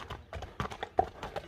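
A horse ridden with reins only trots, its hooves clip-clopping in a steady, close, fairly loud rhythm of distinct beats with no other sound over them.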